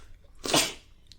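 A single short, sharp sneeze bursts out once, close and fairly loud, against a quiet background.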